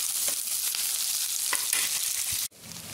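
Onions frying in a pan as the base for an okra dish, a steady close sizzle with faint stirring scrapes and a brief sharp cut in the noise near the end.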